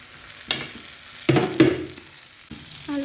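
Potatoes tipped into hot oil for a Bengali alur dum, giving a close, loud sizzle that flares in bursts as they are stirred, with stirring clatter in between.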